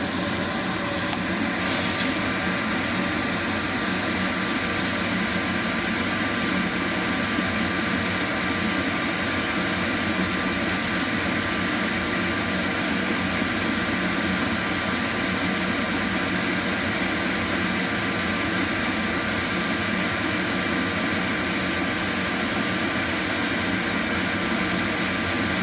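A Glowforge laser engraver with air assist running hums and hisses continuously while engraving a logo onto the bottom of a box or bowl. The steady, loud, unchanging mechanical drone runs alone throughout.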